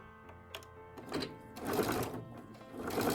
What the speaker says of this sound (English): back stitch a little bit